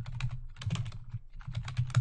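Fingers type in quick bursts on a computer keyboard, the close clicking keystrokes clustering into short runs separated by brief pauses, with no talking.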